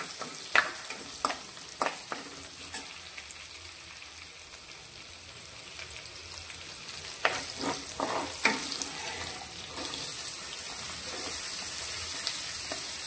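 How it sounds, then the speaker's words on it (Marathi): Onion, ginger, garlic and chili paste frying in a pan for a bombil masala, sizzling steadily with sharp crackles and stirring clacks, growing louder toward the end; no one talks. "ह्याच्यात कांदा, आलं, लसूण, मिरची पेस्ट टाकायची"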